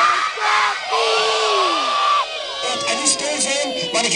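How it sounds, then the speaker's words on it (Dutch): A group of children and adults shout "Zwarte Piet" together outdoors during a Sinterklaas-style call; loud, overlapping yelling voices rise and fall over about four seconds. "ik ga 1, 2, 3 en dan roepen we zwarte piet"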